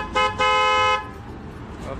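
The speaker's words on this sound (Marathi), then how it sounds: "तर मामांचे हॉर्न बसवायचेत आणि आपल्याला पण हॉर्न बसवायचा आहे" A newly fitted horn on a pickup truck honks twice, a short toot followed by a longer blast, loud and close, then leaves quiet background noise.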